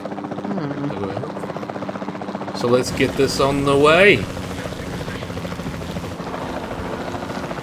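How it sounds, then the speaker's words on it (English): A capture team helicopter in Jurassic World Evolution 2 flies with a constant loud rotor drone throughout, while someone talks over it partway through. "Then the sensible thing is to take a capture team helicopter."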